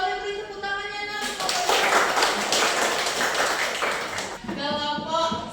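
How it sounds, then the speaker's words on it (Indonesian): Children's clapping breaks out in a classroom after a group presentation, a dense, steady burst of many small hands lasting a few seconds, with some voices around it. "Oke, boleh beri tepuk tangannya, Nak."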